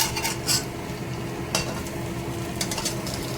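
Potatoes sizzle in a pan while a utensil stirs and scrapes, with a few brief bursts of louder crackling over a steady frying hiss.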